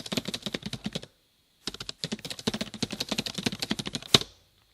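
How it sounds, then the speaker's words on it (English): Rapid keystrokes on a computer keyboard in two bursts separated by a short pause, close and clear with no talking, ending on one sharper key press. "I'm going to type that in."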